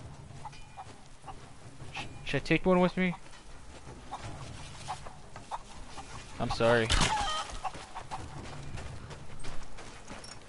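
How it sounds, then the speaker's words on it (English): Chickens clucking in the video game Rise of the Tomb Raider, a couple of loud bursts of clucks and squawks rising over ambient game noise while someone speaks briefly. "We got chickens."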